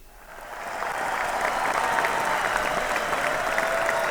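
Steady applause from a studio or live broadcast audience on a radio-TV show, swelling in over the first second and then holding as a continuous dense wash of clapping, with no voices over it.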